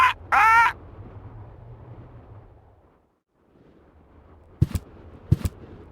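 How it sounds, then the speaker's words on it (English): A parrot in the adventure video game Deponia, kept for detecting dangerous fumes in a mine shaft, gives one short, shrill squawk right at the start, followed by quiet and then two sharp knocks near the end. "Is that your parrot?"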